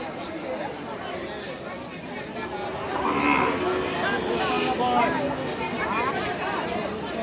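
Cattle at a rural livestock market, with crowd chatter and hubbub running throughout and a possible low moo partway through, all fairly distant and mixed into the background noise.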